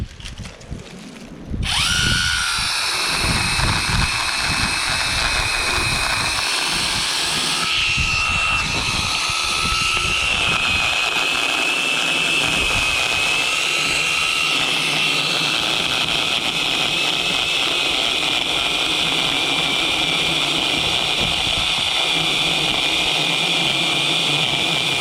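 A power saw starts abruptly, then whines loudly and steadily while cutting down a 3.5 inch cedar in brush-clearing work, its pitch wavering slightly as it bites through the trunk, running continuously to the end.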